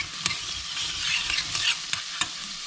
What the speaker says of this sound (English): the onions are just starting to cook down a little bit. So I'm going to add the garlic and stir that in nicely.